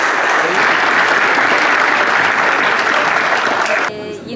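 A theatre audience applauds young performers with loud, dense, sustained clapping that fills the hall, then suddenly cuts off, leaving a quieter murmur at the end.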